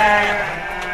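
Sheep on a large sheep farm bleat in a loud, close, sustained cry that fills the short moment, with farm ambience around it.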